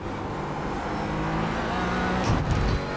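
Race cars roar steadily in a close pack on a circuit, a continuous engine drone with a brief louder surge near the end as a following car closes in.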